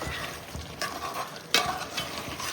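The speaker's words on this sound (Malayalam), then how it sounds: "അപ്പോൾ ഈ അരപ്പ് നല്ലതുപോലെ ഒന്ന് തിളച്ച് വരണുണ്ട്." Biryani masala paste for chicken biryani bubbles and sizzles in a pan, a continuous close crackle with stirring scrapes and a sharper burst midway.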